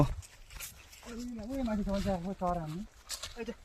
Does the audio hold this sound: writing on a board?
no